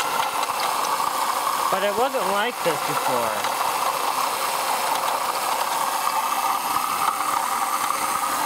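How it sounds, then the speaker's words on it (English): A 2004 Ford Taurus engine idles with a steady mid-pitched hum and a faint grinding undertone, recorded close, while someone talks briefly over it. "I'm just hearing like a grinding sound coming from somewhere."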